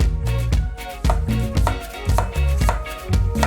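A knife slices an onion thinly on a cutting board in a steady rhythm of close, firm cuts about twice a second, with a tonal background running underneath.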